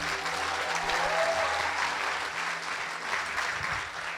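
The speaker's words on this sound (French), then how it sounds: "Est-ce qu'on peut applaudir Sébastien?" A church congregation at a service with baptisms applauds steadily, a dense and even wash of clapping from many hands that holds throughout with a low murmur beneath and no clear speech.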